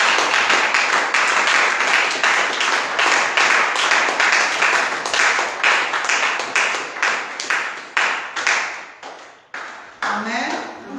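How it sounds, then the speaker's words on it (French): A church congregation at a Sunday service bursts into loud, rapid clapping and cheering, dense rhythmic hand claps that gradually thin out and fade over about ten seconds. "tu acclames très très fort"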